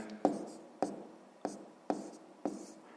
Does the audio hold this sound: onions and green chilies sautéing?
no